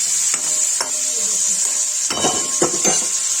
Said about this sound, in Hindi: इसी में पनीर फ्राई करूँगी। देखिए पनीर डाल दूँगी।